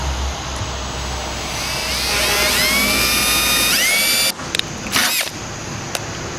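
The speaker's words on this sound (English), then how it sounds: "I want to make sure there's nothing behind where you're drilling." A power drill boring a hole for radio wiring, a steady high whine that rises in pitch as the bit spins up, then stops abruptly with a few short restarts near the end.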